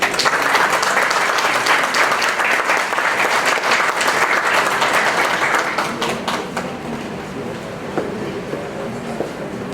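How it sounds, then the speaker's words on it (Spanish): Hospital anniversary audience gives a loud, dense round of applause for an invited medical history speaker, sustained for several seconds then thinning to scattered claps and faint room noise. "Le recibimos con un fuerte aplauso."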